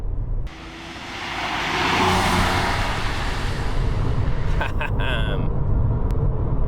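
A VW Golf V6 4Motion with almost 250,000 miles drives along, giving steady, loud engine and road rumble from inside the car that swells as it picks up speed.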